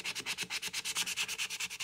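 Wood on a phone amplifier being hand-sanded with 150 grit sandpaper: brisk, even back-and-forth strokes in a steady rhythm, about seven per second, close and alone with no talking.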